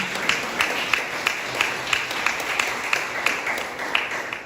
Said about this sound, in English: Can we have a round of applause for Mrs.